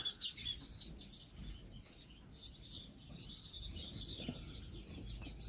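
Finches, a spice finch among them, chirp and tweet in short, scattered calls around nesting birds, faint against a soft background hum with no one talking.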